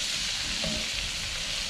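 Cabbage sautéing in a hot pan gives off a steady, loud, close sizzle that holds evenly from start to finish, with only a faint stir partway through and no voices.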